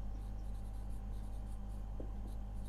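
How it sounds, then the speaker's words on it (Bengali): A pen writing a finance formula by hand on paper, with quick close scratching strokes in short bursts over a low steady background hum. "তো চলো আমরা আগে সূত্রটা লিখি।"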